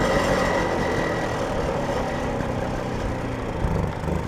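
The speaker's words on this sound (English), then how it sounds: "Let's see if it'll even idle." A 1979 Motobecane moped's small engine, a barn find, struggles to idle. It makes a rough, uneven putter that stays fairly steady and loud up close, with no voices.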